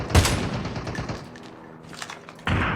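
Gunshots in a shooter video game: a sharp, loud shot opens the clip, followed by quieter rattling and a renewed burst of fire at the end.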